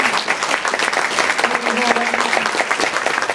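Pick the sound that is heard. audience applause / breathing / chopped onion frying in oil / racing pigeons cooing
audience applause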